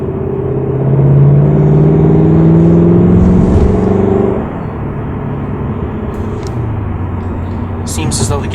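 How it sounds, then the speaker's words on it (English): A 2016 Chevrolet SS in sport mode, its exhaust giving a loud, low droning rumble from inside the car that holds steady, then drops to a quieter cruise, with someone talking over it. "I've noticed that the exhaust note now got lower and a little louder."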